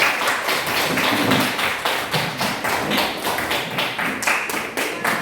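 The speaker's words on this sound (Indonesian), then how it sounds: "Kasih aplaus untuk kerja keras kita." A class applauding at the end of a lesson, with a steady run of fairly loud, rhythmic hand claps lasting several seconds and no talk over them.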